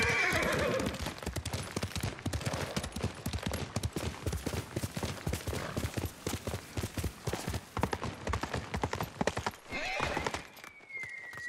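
A horse gallops with fast, loud, rhythmic hoofbeats in the samurai game Ghost of Tsushima, then slows and gives a whinny near the end.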